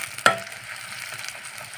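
Ginger garlic paste hitting hot oil with browned onions, a sharp sizzling burst as it goes in, then a steady soft frying hiss with light stirring, close and without talk.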